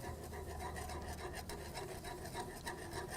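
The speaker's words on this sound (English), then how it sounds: "whisk it as this is going in" Swerve sweetener whisked into a saucepan while making mint chocolate chip ice cream gives a continuous close scraping and rasping rub that stays steady throughout, with no voices.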